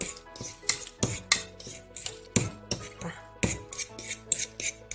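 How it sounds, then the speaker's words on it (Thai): Ripe avocado being mashed in a bowl with a utensil for keto brownie cookies, repeated rhythmic scraping and tapping strokes against the bowl, close and clear with no speech. "ถ้าเราเลือกอะโวคาโดได้เนื้อแบบสุกๆอะค่ะ มันก็จะแบบแมชง่ายมาก"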